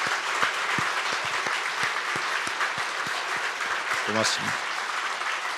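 A church congregation at a New Year's Eve service keeps up a broad, steady round of applause with scattered sharp claps, while someone briefly speaks over it near the end.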